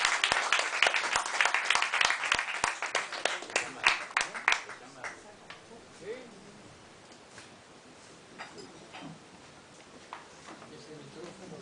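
Sharp audience clapping greets the poets at a café arts-space poetry reading, loud at first, then fading into scattered claps, rustle and murmuring voices.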